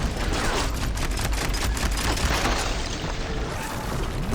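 Bolt Blaster firing sustained bursts in the Horizon Forbidden West video game, a continuous loud roar of rapid shots and booms that holds steady for several seconds, with no talking.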